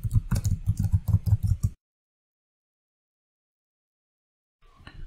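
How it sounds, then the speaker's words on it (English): Password typed on a computer keyboard at a Windows Server 2022 login: a quick run of close, distinct key clicks for under two seconds, then silence, with a faint clatter returning at the very end. "You have to send control alt delete and type the password here."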